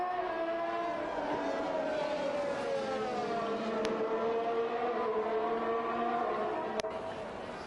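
Race cars lapping Monza in a racing video game, engine notes rising and falling in steady sustained whines through the clip, a couple of brief sharp clicks along the way.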